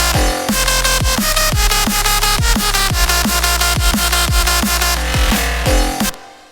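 A loud, dense jump-up drum and bass drop reproducing a track: pounding kicks and snappy drums driving a buzzing, wobbling bass and melodic synths, ending with a brief cut to near silence.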